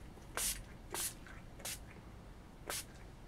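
Four short bursts of makeup finishing spray, each a quick aerosol hiss, spaced irregularly with quiet pauses between them.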